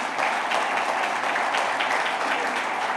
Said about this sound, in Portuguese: A igreja pode aplaudir Jesus agora.